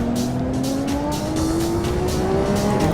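A race car in a video game of the Top Gear challenge at Imola roars continuously and loudly, its engine pitch climbing steadily, with rough tyre noise running underneath.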